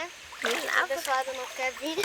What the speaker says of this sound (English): And we come down here to splash around.